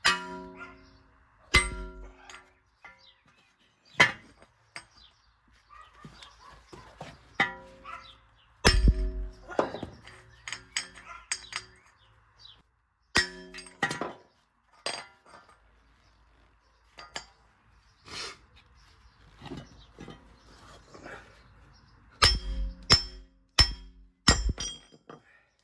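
Metal-on-metal hammer blows driving a wheel bearing off the drive shaft section using a 30 mm drive shaft nut, a series of sharp, loud clanging impacts in irregular bursts with quieter clinks and shuffling between them.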